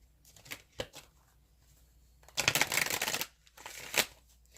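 Tarot cards shuffled close up: a few light taps and flicks, then a quick riffling burst of about a second, followed by a couple more soft card knocks, with no talking.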